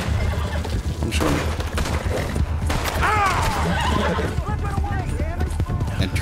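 Horse sounds in the video game Red Dead Redemption 2: hooves clopping and a whinny amid busy background noise and faint talk, with sharp booms scattered throughout.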